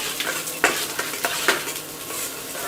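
Onions and pirandai (adamant creeper) sauté in a pan with a loud close sizzle. Quick spatula scrapes and clinks against the metal come in bursts, and nobody talks.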